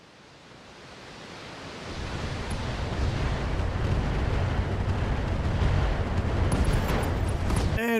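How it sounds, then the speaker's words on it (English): An ammo explosion on a target during a video game base-defense battle swells from a low rumble into a loud, sustained roaring blast that fills the whole clip. "And we got an ammo explosion on him."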